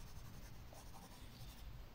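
A pencil shades lightly across paper in spaced strokes, a very faint, soft continuous scratching close by with no talk.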